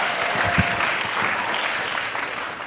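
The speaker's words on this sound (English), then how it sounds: "And then I heard you guys applauding." A live audience at an Ignite Denver talk night claps in a continuous, even wave of many hands, a few louder claps standing out early before it settles.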